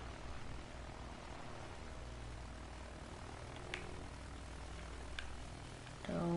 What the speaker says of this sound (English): You can't turn at all in a bomber jet.